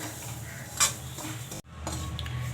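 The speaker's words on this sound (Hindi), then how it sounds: "हम 1 चम्मच घी डालेंगे और हम थोड़ा सा सूजी को भी भून लेंगे" Semolina roasting in ghee over a low flame, stirred in a pan with a soft constant sizzle, one sharp metallic scrape of the spoon, and a brief drop before the stirring resumes.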